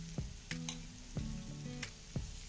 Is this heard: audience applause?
no